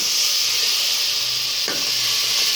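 A spoon stirs lassi mixed with gram flour into spices frying in a pan for kadhi pakora, giving a steady close sizzle and hiss with a soft scrape partway through.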